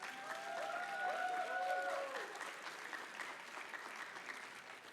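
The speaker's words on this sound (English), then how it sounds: "Can we get one more round of applause for that run?" An audience applauding after a VVVVVV speedrun at a charity gaming marathon, sustained clapping at moderate volume with a faint tonal sound early on, slowly easing.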